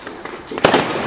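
A Shock Tube firework bursts with a sharp, loud bang followed by a brief crackling tail, heard outdoors with faint voices around it.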